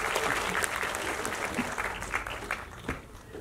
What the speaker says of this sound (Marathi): त्यांच्याहीसाठी एकदा जोरदार टाळ्यांचा गजर करूया.